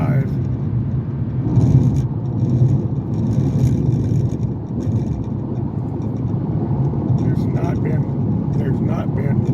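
A car cruises down a lightly trafficked high desert highway, a steady low road and engine rumble with tyre roar filling the cabin, faint higher noises drifting over it, no other vehicles close.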